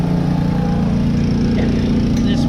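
Tractor engine running steadily and loud up close while a John Deere 750 seed drill is loaded, a constant droning hum with no talk.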